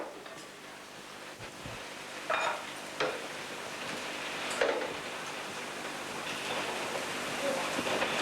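Meatballs frying in a pan over low heat, a soft continuous sizzle with occasional stirring clatters and scrapes, moderately quiet and without talk.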